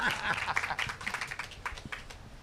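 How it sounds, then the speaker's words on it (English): Modest applause from a small breakfast audience at a Kona triathlon event, scattered hand claps fading over a couple of seconds, fairly faint and close. "How about a round of applause for Solveig?"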